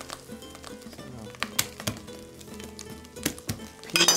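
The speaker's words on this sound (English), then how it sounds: "The chorizo is starting to brown now." Chorizo sizzles and crackles as it browns in a frying pan for steamed mussels, a steady close hiss broken by sharper pops and occasional stirring clatter.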